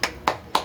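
Three sharp hand claps, evenly spaced and close, from an Indonesian classroom clap routine (tepuk PPK) in a grade 3 lesson, with no talk over them.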